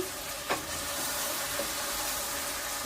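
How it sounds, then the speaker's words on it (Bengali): Beef curry being sautéed in a pan until the oil separates, giving a continuous close sizzle with a few stirring scrapes and light knocks, no speech. "সেটা ভালোভাবে কষাচ্ছি। দেখুন তেল বেরিয়ে যাচ্ছে।"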